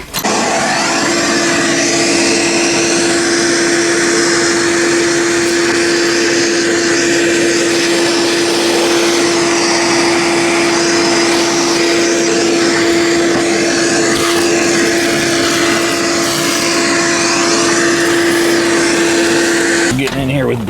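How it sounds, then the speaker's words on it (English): A vacuum cleaner pulls grime and grit out of the removed dashboard of a Cougar XR7 428 Cobra Jet, a loud, steady roaring whine with a constant tone that runs unbroken for about twenty seconds, close by. "Getting in here with brushes and vacuums and cleaning out all this stuff while I have the dash out."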